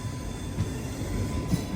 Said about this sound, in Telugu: గూడూరు జంక్షన్ అటు సైడ్ ఒక ట్రైన్ వస్తుంది చూసారా